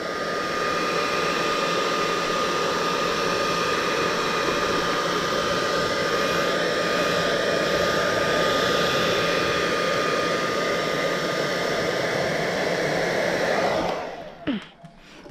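A heat gun blows a loud, continuous, steady roar of hot air while warming vinyl wrap on headlight bezels, then cuts off abruptly near the end.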